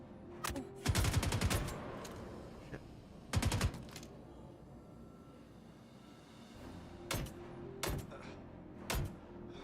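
Gunfire from a weapon in the space game Star Citizen, several separate loud bursts of rapid shots rising over a low ambient hum, with quieter gaps between the volleys.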